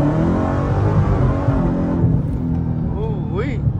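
A Dodge Demon downshifting and revving hard, a loud close engine roar with a whining rise near the end, with a voice speaking over it.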